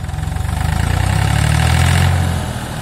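A Massey Ferguson 255 turbo tractor stuck in mud labours with a deep, steady engine drone that swells slightly in the middle before easing back, loud and close, with no voices.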